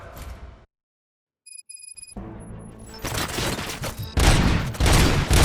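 Bursts of rapid gunfire and booming shots in the video game Robocop: Rogue City erupt after a brief silence and a few electronic beeps, loud and chaotic.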